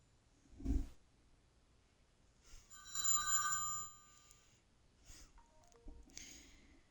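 A telephone rings in two distinct bursts, a loud electronic trill near the middle and another shorter one at the end, with a few soft thumps and breaths between in an otherwise quiet room.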